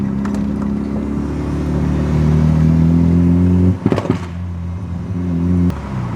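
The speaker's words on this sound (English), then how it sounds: "if I go to plant my foot on the throttle, it's backfiring and not going anywhere" A barn-find Mazda RX-7 rotary engine drones loudly at full throttle. Midway it breaks into a quick cluster of sharp backfire pops, then keeps droning with another pop near the end, and no voices.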